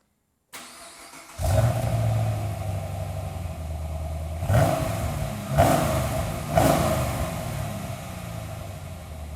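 2010 Chevrolet Camaro on its stock factory exhaust starts up and settles into a close idle, then gives three sharp revs spaced a second or so apart.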